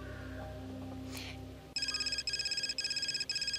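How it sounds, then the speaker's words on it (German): A telephone rings in the video game Gray Matter: a loud electronic double-trill repeats three times in steady bursts after a short stretch of quieter ambience, with no talk over it. "Telefon."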